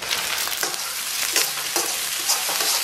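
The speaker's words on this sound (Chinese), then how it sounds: "咱们给锅里边稍微来点油，咱们把鸡蛋下到锅中" Egg fried rice stir-fried in an oiled wok, loud continuous sizzling with scraping stir strokes at a quick rhythm, close and without talk.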